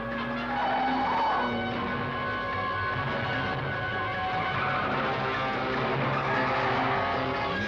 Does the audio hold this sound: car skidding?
yes